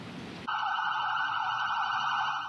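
Emergency vehicle sirens from an ambulance and its police escort wail steadily and loudly, following a short burst of broadband noise at the start.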